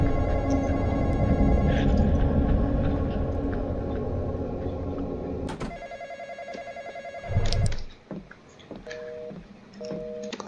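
A telephone rings in a Roblox horror game, a repeated electronic ring over a dense game soundscape, then the ambience drops and short beeping tones follow, with no voice.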